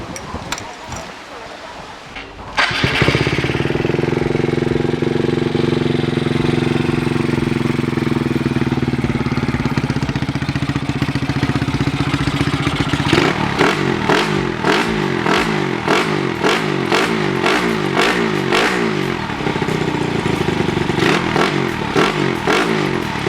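A Honda Sonic motorcycle fitted with a CBR head, its 65 mm bore engine running steadily and loud after a startup clatter, then revved in quick repeated blips near the end.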